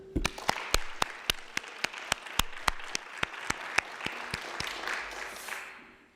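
Spectators at the final of a student debating contest applaud, with sharp individual claps standing out near the microphone over a wash of crowd clapping that fades away at the end.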